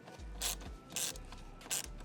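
A driver clicks in quick ratcheting bursts while a T20 Torx screw is backed out of a Rivian R1T or R1S fuse panel, three short close clicking runs separated by brief pauses, with no talking.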